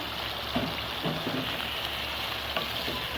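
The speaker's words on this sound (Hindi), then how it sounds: "और इसको गोश्त के साथ फ्राई करेंगे अच्छी तरह।" Meat frying in a pan with a dense, continuous loud sizzle and a few faint clicks of movement.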